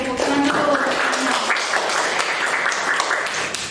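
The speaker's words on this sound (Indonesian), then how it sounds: "Oke, tepuk tangan dulu." A school class claps hands together in a classroom, a short burst of fairly loud, dense clapping with a voice briefly heard at the start before it fades slightly at the end.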